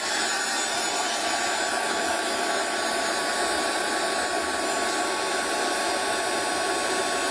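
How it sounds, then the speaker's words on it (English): A heat gun blows continuously and loudly up close, drying a napkin craft piece, a steady broad hiss with no pauses and no voices. "I'm going to go with the heat gun."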